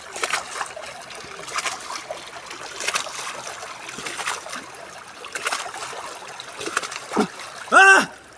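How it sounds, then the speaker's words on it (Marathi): Rhythmic splashing of swimming strokes in deep river water repeating about once a second, moderately close, with a louder splash near the end and faint voices in the background. "अनिल नंतर मी पण आता पाण्यात जोर मारणार आहे"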